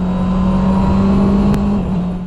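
Honda CB650R motorcycle with a 649cc 16-valve dual overhead cam inline-four engine running at a steady idle, a close, continuous low hum with an even drone and no voices.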